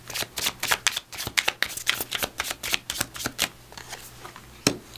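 Angel number oracle cards are shuffled in a rapid string of crisp riffling slaps and flicks, close and clear, slowing toward the end with one sharp final tap.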